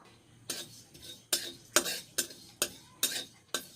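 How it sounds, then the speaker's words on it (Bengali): A metal spatula scrapes and clinks against a wok in steady, sharp strokes about twice a second while panch phoron spices fry for a cauliflower and mushroom dish, close and fairly quiet. "পাঁচ ফোড়ন দিয়েছি ভেজে নেব গরম করে নেব কড়াই ভালো করে"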